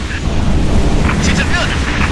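Space station defences bombarding enemy ships in the Halo Reach campaign on Xbox 360, a rumbling barrage of deep booms with crackling debris and bright flashes of energy fire, loud throughout.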